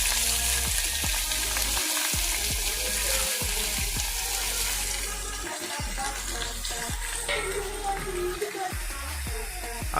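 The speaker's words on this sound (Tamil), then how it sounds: "கருவேப்பிலை போட்ட உடனே நம்ம வெட்டி வச்ச அவரைக்காயை அப்படியே நம்ம உள்ளார போட்டுடலாம்." Curry leaves and cut broad beans fry in a pan, giving a steady close sizzle with scattered crackles and a few scraping stirs throughout.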